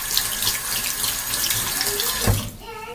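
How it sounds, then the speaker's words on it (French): Water runs steadily from a bathroom or kitchen tap while a brush is rinsed under it, a close, continuous splashing that thins out and changes tone near the end. "je vais rincer le pinceau"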